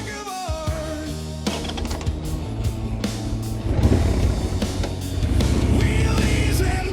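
A Harley-Davidson Sportster 883R engine rumbles loudly under riding, its note rising and growing stronger through the second half amid steady mechanical roar.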